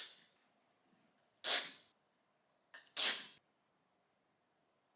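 Two separate sneezes, each a sharp burst preceded by a brief intake, spaced about a second and a half apart, close and fairly loud against a quiet room.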